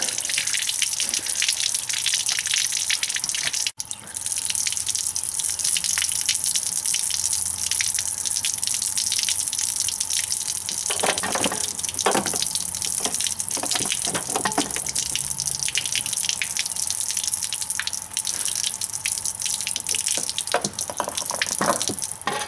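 Washer fluid drains from a BMW 3 Series windshield and headlight washer reservoir in a loud, steady, close gush that runs throughout, with a brief interruption near the start and some faint clicks and handling noises later.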